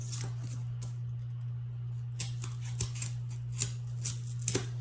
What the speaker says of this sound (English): These scissors actually don't really work that good.